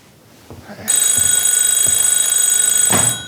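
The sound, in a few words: telephone ringing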